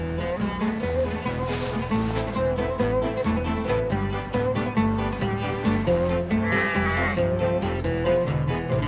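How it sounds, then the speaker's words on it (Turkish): Sheep bleat repeatedly over a steady layer of music, the calls close and clear. "burada koyunun ne işi var?"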